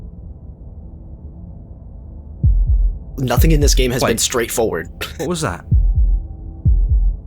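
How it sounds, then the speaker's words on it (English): Low, deep heartbeat thumps from the video game Slay the Princess, a few spaced beats sounding before and after a stretch of close male speech that runs over them. "That was the sound of a heartbeat,"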